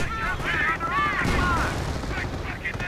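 Gunfire in a WWII real-time strategy game, a sniper shot among distant overlapping cracks and booms of battle, heard under a caster's continuous commentary.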